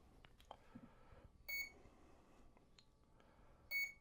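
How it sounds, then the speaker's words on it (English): Electronic speed controller on a model plane beeping after the battery is plugged in: two short, clear high tones spaced a couple of seconds apart over faint background clatter and handling noises. "So as soon as we hear the beeps, I'm going to drop the throttle, and that's going to calibrate it."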